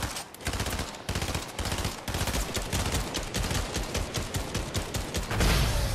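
Rapid gunfire from the video game Fortnite, a loud, dense stream of fast repeated shots and bursts that continues for the whole stretch with only brief gaps and almost no talking.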